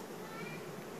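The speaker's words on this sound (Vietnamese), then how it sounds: "Mèo quá trời." Cats meow in a short, noisy burst, with the calls blending into a dense mid-range wash and no clear pause.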